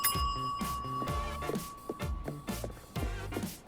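Kitchen service bell in the Chef Life cooking game, struck repeatedly in a quick steady rhythm, each bright ring decaying over a sustained background tone, loud and close.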